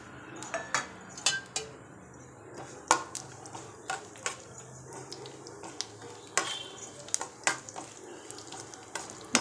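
Mustard and cumin seeds tempering in about two tablespoons of hot oil in a pan, a steady close sizzle broken by sharp crackling pops and clinks of a utensil stirring against the metal.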